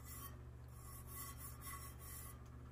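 Finger rubbing across a glitter-coated tumbler during a tack-it finishing method, a faint, steady rasping scrape with repeated strokes that brighten in short bursts over a low constant hum.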